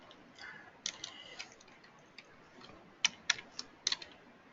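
Dates are typed on a computer keyboard in a quiet room, a few faint scattered keystrokes giving way to a louder cluster of sharp clicks near the end.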